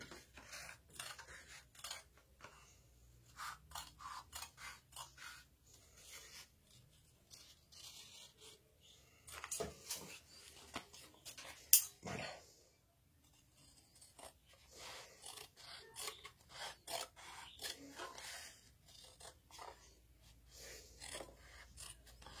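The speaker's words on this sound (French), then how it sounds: "je vais maintenant couper le pied des colles" Scissors snip through the fabric of a shirt collar stand in a series of quiet, close, irregular cuts, with small handling clicks between them and no talking.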